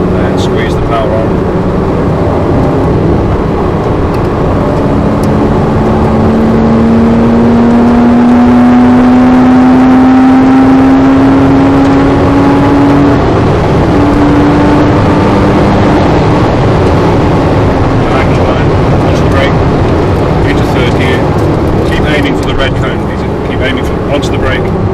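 A Porsche accelerating on a track holds a loud, continuous engine drone that rises in pitch across the run, with an instructor talking over it.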